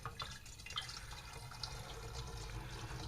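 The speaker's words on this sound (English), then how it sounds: "what I'm doing is got a funnel. I have a funnel and I'm pouring the wine" Homemade strawberry wine poured through a funnel into bottles, a steady trickling and splashing of liquid with a few drip-like accents, close and moderately quiet throughout.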